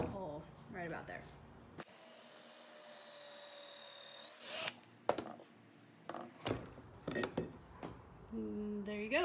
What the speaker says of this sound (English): I'm gonna go ahead and drill the pocket hole right about there